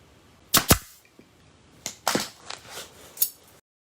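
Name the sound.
staple gun stapling love seat upholstery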